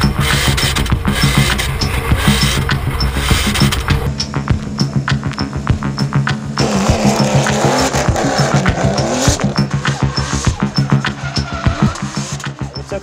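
A championship-winning Formula Drift car with a new Garrett GTX 3582 turbo drifts hard, engine roaring and tires squealing continuously, with a surge of louder tire scrub partway through.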